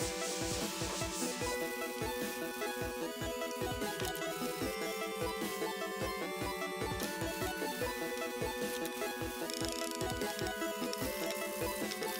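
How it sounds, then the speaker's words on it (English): Power sander working over wooden shelves built from a felled tree, a steady close rasping drone with rhythmic strokes that runs continuously, with no talking. "I finally have all of these shelves sanded"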